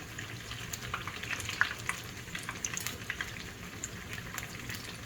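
Cod fish fritters fry in a hot pan with a steady close sizzle, and small crackles and pops rise over the frying throughout, with no voices.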